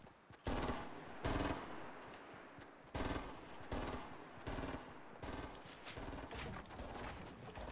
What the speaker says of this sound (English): Can you keep shooting that wall so they don't rest?